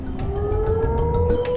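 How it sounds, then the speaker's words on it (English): End-of-day work siren at 5 o'clock in the video game Shenmue, a loud sustained wailing tone with a faint rising pitch over a rumbling background. "There's the siren for the end of the day, 5 o'clock."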